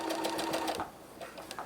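A domestic sewing machine stitches welt pocket seams in a steady rapid rattle, close and loud, with the motor pausing briefly and then starting again in short bursts.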